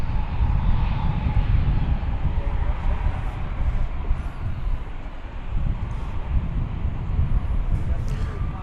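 A double-decker airliner at DFW Airport with a loud, sustained jet engine roar that rumbles steadily throughout, mixed with wind buffeting on the microphone.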